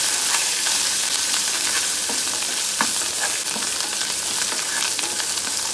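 Hot oil sizzles steadily as asafoetida tempering fries for semiya daddojanam, a dense continuous crackle with faint stirring clicks and no voices.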